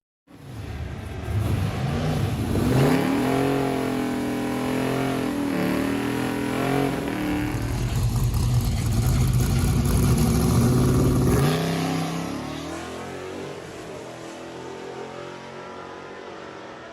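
A Buick 455 High Output V8 engine revs loudly and continuously, rising and falling in pitch as the throttle is worked, then settles into a lower drone near the end.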